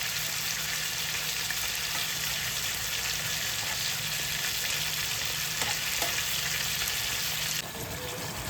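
Bhetki fish fries in a small wok, giving a constant close sizzle with a low hum underneath and a slight drop in level near the end.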